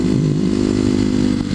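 Kawasaki KLX250SF dual-sport motorcycle engine idling up close, a steady low throbbing rumble with mechanical clatter, loud and continuous throughout with no speech.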